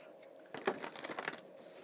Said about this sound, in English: I just shuffled the cards instead of seeing.